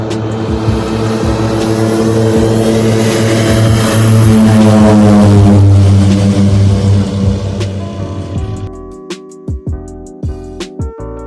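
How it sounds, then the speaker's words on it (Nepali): A propeller plane at an airport runs close and very loud with a droning, throbbing engine roar. The roar holds for several seconds, then fades away, leaving scattered sharp knocks and clatter. "प्लेन आइसकेको छ चढिन्छ आज"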